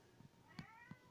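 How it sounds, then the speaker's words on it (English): A cat gives a few short, squeaky meows close by, with brief pauses between them. "She squeaks, she's going, meow"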